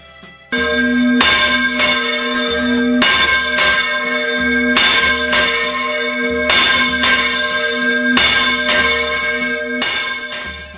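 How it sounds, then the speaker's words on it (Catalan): The Sant Josep church bell of Albaida, cast in 1940, weighing 294 kg and hung on a crankshaft yoke, rings in repeated loud, resonant strikes with long humming decay and a steady rhythm. "Pesa 294 quilos i és la campana en cigonyal més gran que es coneix."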